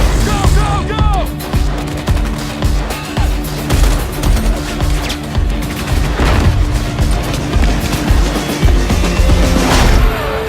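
Rapid bursts of automatic gunfire and heavy booms from a hostage-rescue shooter video game demo shown at a Gamescom 2014 press conference, loud and continuous, with brief shouted voices and crashing impacts mixed into the barrage.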